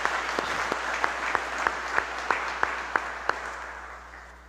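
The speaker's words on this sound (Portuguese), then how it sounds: "E uma salva de palmas ao menino Jesus que se encontra no meio de nós." A church congregation at a Christmas-season Mass for the Holy Family claps together in a loud, sustained round of applause, with steady, regularly spaced claps that fade slightly toward the end.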